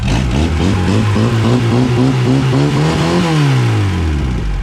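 A VAZ 2103 car engine starting for the first time after a clutch adjustment, its loud, close note climbing through a long rev and then falling back, with no talking.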